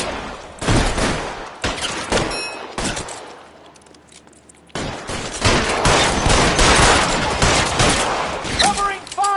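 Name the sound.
gunfire in the video game L.A. Noire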